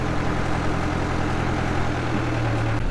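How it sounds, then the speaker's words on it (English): A tractor engine running steadily on a rocky hillside field during discing, a continuous low rumble with no breaks. "Daniel's still up on the hill with the tractor."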